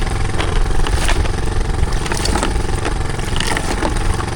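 A fishing boat engine runs loud and close, a constant rough throbbing drone with no pauses, heard alone in bad weather at sea.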